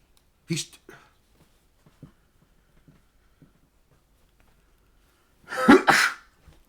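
Two sneezes, a short burst near the start and a louder, fuller one toward the end, with quiet small sounds between them.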